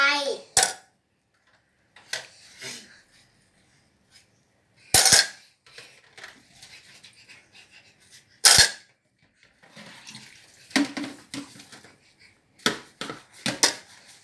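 A child washes spoons, with sharp, scattered clinks of metal cutlery against dishes between quiet stretches, and children talk at times.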